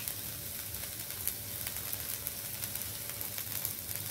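Yellow croaker fish sizzles steadily in hot oil in a pan, a continuous close crackle with faint irregular pops and a low steady hum beneath, no voices.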